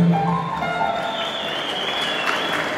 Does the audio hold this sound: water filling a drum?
no